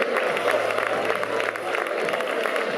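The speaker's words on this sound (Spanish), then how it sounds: "Un aplauso, por favor." Spectators at a youth cycling race in Gijón clapping in a sustained ripple of applause, with crowd murmur and scattered voices mixed in, steady and fairly close.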